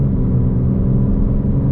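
A 2021 BMW M4 Competition G82 engine pulls hard through the gears in steady acceleration. It makes a loud, continuous low rumble and whir heard from inside the car, with no talking.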